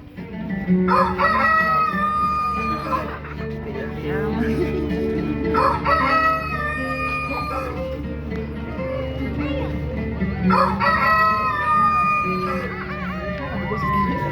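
A rooster crows three times, each call a long, loud, ringing cock-a-doodle-doo spaced several seconds apart, used in a church congregation's Easter drama staged in Gorontalo.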